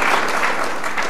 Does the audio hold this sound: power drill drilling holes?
no